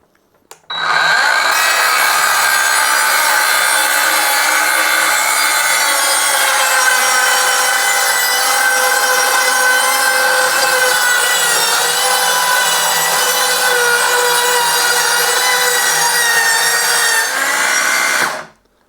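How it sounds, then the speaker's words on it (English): An Evolution R165CCS-Li 18V cordless circular saw rips a thin strip off an 8x4 board along a clamped parallel edge guide, a loud steady whining cut lasting about seventeen seconds, starting and stopping abruptly, with no talk. "I'm just going to cut a length off this to show you that you can actually cut 8x4 boards with it"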